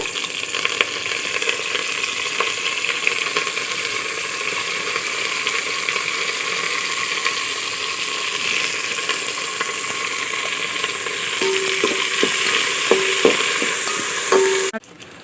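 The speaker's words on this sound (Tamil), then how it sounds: "வெங்காயம் நல்லா வதங்கிடுச்சு" Onions sauté in a pan for Thanjavur dal kofta curry, a steady close sizzle and hiss running throughout, with a few scraping stirs and clinks toward the end.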